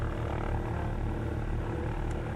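Steady, loud drone of a Partenavia P.68 twin-engine propeller plane in flight over Melbourne, a continuous engine hum with low propeller throb heard from inside the cabin, no talking.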